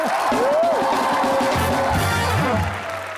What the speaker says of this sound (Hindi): तीनों के लिए जोरदार तालियां